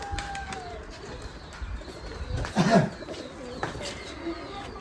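Giribaz pigeons cooing at a pigeon farm: soft low coos and murmurs, with one nearer burst of cooing in the middle, over faint background rustle and a little distant voice.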